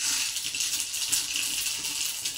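Mustard seeds dropped into hot oil for tempering crackle and spatter in a dense, continuous hiss that stays loud and close for the whole moment, with no talking.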